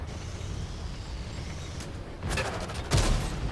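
Tank cannon shots in the video game World of Tanks hitting an enemy tank, a couple of loud booming impacts with crackling debris following a stretch of low engine rumble.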